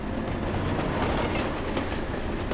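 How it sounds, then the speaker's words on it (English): A train rolls past at close range, its steady, loud rumble and rhythmic clickety-clack of wheels on rail filling the whole moment without pause. "That's a train."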